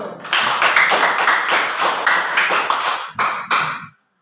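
A class of schoolchildren claps hands in a classroom, a loud, close burst of many overlapping claps that breaks into a few final separate claps before stopping.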